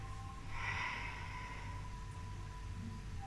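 A slow inhale through the nose during a beginner yoga class, a soft breathy rush that swells early and trails off, close and quiet, with a faint steady hum of room noise underneath.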